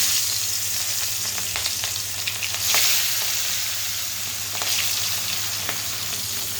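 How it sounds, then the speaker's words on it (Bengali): Pieces of rohu fish frying in oil in a wok in a village kitchen, giving a steady close sizzle with small crackles and pops throughout, without any talking. "কড়াইয়ে আমি মাছগুলো দিয়ে এখন সুন্দর করে ভেজে নিব।"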